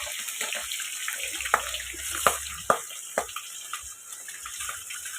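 Pabda fish frying in hot oil, a steady hiss and sputter with several sharp pops and spits of oil bursting close by, no voices.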